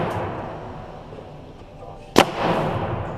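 A reball marker fires a single sharp shot outdoors at night, a sudden loud crack followed by a brief rumble, with muffled voices before and after.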